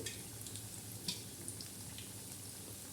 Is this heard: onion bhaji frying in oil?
yes